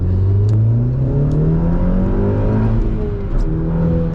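Tuned Audi S1 hot hatch revving hard with a loud, steady, rising engine drone, a few sharp exhaust pops and crackles breaking through near the start and end.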